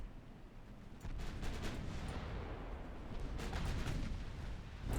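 Naval gunfire rumbles through a battle in Ultimate Admiral Dreadnoughts, a heavy, continuous roar of distant cannon blasts and explosions, loud and dense without speech.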